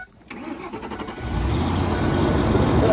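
A car engine cranks briefly and then catches, settling into a steady, loud running idle that continues to the end with no talk.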